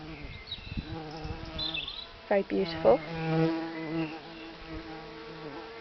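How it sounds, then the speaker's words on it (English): Common carder bumblebees buzz close at hand around Welsh poppies in a garden, a steady high-pitched metallic drone rising and falling as they move between flowers, with a short spoken remark. "And there's the pascuorum again."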